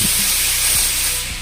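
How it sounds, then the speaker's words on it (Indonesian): Compressed-air spray gun blowing out a clogged fan hole on a car battery during an EFI engine tune-up, a steady close, loud airy hiss lasting throughout with no pauses. "sumbatan fan hole kita tiup dengan spray gun"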